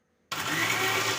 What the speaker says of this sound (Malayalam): അപ്പൊ ഞാൻ ഇതൊന്ന് അരച്ചെടുക്കുന്നുണ്ട് കേട്ടാ.